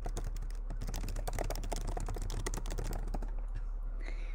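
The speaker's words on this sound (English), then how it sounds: "type your answer into the box" Typing on a computer keyboard, answering a question in an online lesson: a quick, steady run of light key clicks that carries on for a few seconds before trailing off, faint and close, with no talking.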